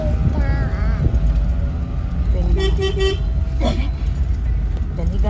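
A vehicle draws up on a village road with a run of short horn toots, busy traffic noise behind, and voices talking nearby.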